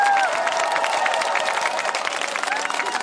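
An audience at a political rally in Gyeonggi Province applauds three National Assembly members, a dense, steady wave of clapping with some cheering throughout.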